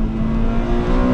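An Acura Integra Type R is driving with a steady, loud drone of engine, road and wind noise from inside the cabin, with a low hum carrying through without pause.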